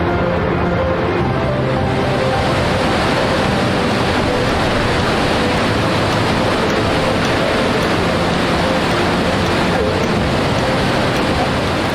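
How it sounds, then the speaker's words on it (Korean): Iguazu Falls, a huge waterfall with an enormous volume of water pouring down, heard as a dense, unbroken roar at steady loudness throughout, with no voices over it. "여러분들이 보고 계시는 저 폭포는 세계 3대 폭포라 불리는 이과수 폭포입니다."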